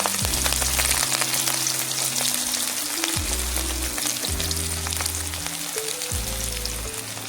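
Spring onion leaves and small onions fry in a pan with a continuous crackling sizzle, while a low, stepped tonal melody plays underneath.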